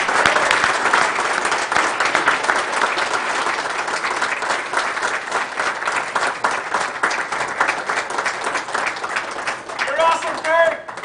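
Sustained applause at a city council meeting honoring 25 years of city service, dense rhythmic clapping from a room of people lasting the whole stretch, with a voice beginning to speak near the end.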